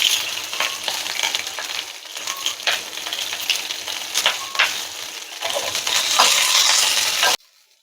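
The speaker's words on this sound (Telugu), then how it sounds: "శనగపప్పు, మినపప్పు వేయించుకుంటున్నాం." Chana dal and urad dal frying in a pan, a steady close sizzle with scattered crackles and small pops of lentils shifting in hot oil, running continuously without any talk before cutting off abruptly.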